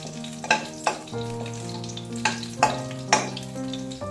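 Whole garam masala, bay leaf and a little mace fry in hot oil for mutton keema, giving a soft sizzle with a few sharp clinks and scrapes from stirring.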